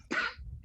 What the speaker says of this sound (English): Sorry, whoever is coughing in the house.